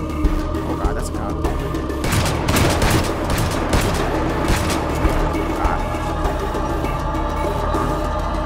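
Rapid bursts of gunfire from GTA 5 roleplay, a mix of automatic and single shots, loud and sustained through the whole stretch, with excited voices talking over the shooting.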